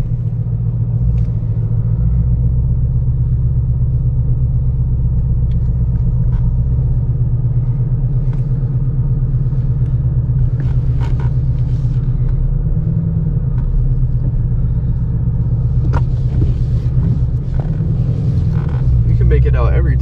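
Shelby GT350 Cobra V8 fitted with a K&N air filter, heard from inside the car on a test drive as a steady, loud low rumble throughout, with occasional swells, while people talk over it.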